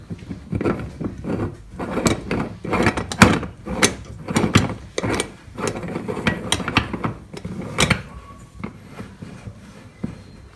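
Upper chamber of an Italian stovetop espresso maker being screwed on: a close, uneven series of scraping metal clicks and grinding turns, with short pauses between twists.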